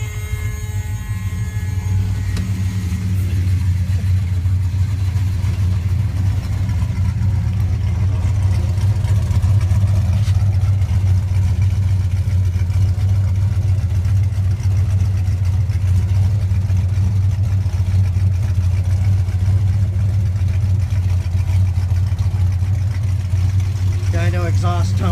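A 1970 Dodge Coronet with a 340 Six Pack V8 idles steadily and evenly, a strong low exhaust rumble holding constant throughout with no talk over it.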